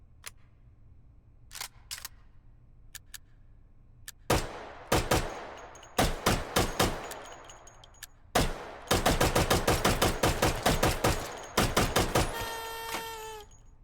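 Submachine gun fire in the VR shooter H3VR: scattered single shots, then short bursts and a long rapid string of loud, close, sharp reports, with mechanical clicks and a ringing metallic tail at the end.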